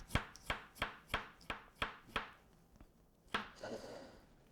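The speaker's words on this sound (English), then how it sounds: "cut them in slices and then chop them a little more" A knife slices through soft steamed carrots on a cutting board in about eight evenly spaced, crisp chops, followed by a final cut and a brief scraping rustle, close and clear.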